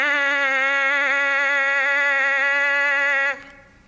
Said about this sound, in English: So I spend a good 10 minutes just buzzing my mouthpiece.